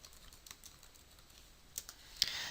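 Fingers type a first and last name on a computer keyboard, producing quiet, rapid key clicks in short bursts, ending in a couple of firmer taps, with no speech.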